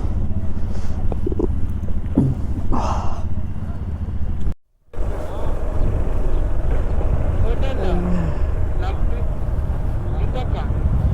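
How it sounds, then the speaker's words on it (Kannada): A strong wind blows dust along the road from Kargil to Leh, a steady roar and buffeting of wind noise on the microphone, with people talking over it throughout and a brief dropout midway. "ಇಲ್ಲಿ ಹೆಂಗೆ ಎಂಥ ಗಾಳಿ ಬರ್ತಾ ಇದೆ ಅಂದರೆ ಧೂಳು ತಡಿಯೋಕ್ಕಾಗ್ತಾಯಿಲ್ಲ"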